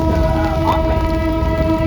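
Skunk Train passenger train rolling through pouring rain, a steady loud rumble with sustained tonal hum and a brief squeal, continuous throughout.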